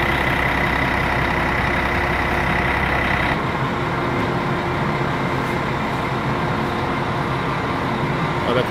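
Mercedes-Benz bus engine idling steadily and loudly nearby, a continuous low rumble with a drop in tone partway through, then running on evenly.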